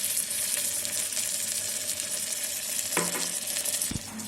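Soybean chilli with green chili, tomato and dark soy sauces is stirred in an electric kettle, a constant hissing sizzle under a scraping spoon, with a couple of short knocks toward the end.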